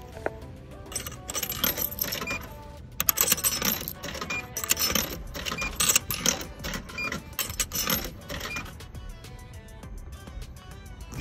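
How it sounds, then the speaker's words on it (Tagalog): Coins clatter one after another into a drink vending machine in Tokyo, a busy run of bright metallic clinks and drops over several seconds, followed by quieter mechanical clicking as the machine works. "Dito sa vending machine, bibili tayo. 140 siya. So kailangan may ganito ka para makabili ka."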